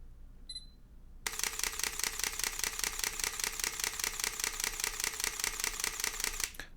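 A Sony Alpha mirrorless camera, an A7II or A6000, fires a rapid continuous-shooting burst after one faint beep, its shutter clattering in a steady machine-gun rhythm for about five seconds before stopping, close and alone.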